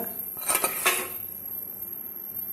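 A few close metallic clanks and scrapes as a metal cooking pot for making puttu is picked up and set down, followed by a quiet room.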